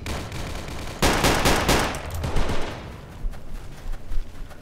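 An STG-44 rifle fires in the Roblox game Unit 1968, opening with a sudden loud burst of rapid shots that trails into scattered, fainter shots and echoing battle noise.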